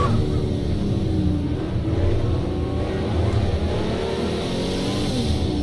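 A Porsche in a racing video game revs and accelerates, a continuous mid-pitched engine drone with rising and falling pitch heard close throughout.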